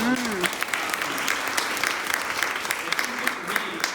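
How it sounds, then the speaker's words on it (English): An audience at a health talk breaks into sustained applause, sharp individual claps standing out from the steady crowd, with a brief voice heard at the start. "give her a round of applause"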